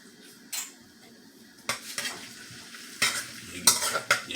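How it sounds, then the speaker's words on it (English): Onion sautéing in a pan on a stove, quiet frying punctuated by several louder bursts of stirring and spoon scrapes against the pan. "a little stir, nothing big. You get a small saute."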